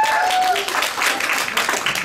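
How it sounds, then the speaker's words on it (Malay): Audience applause at a Malaysian business seminar, a dense, even burst of clapping from a seated crowd lasting a couple of seconds. "Beri tepukan juga."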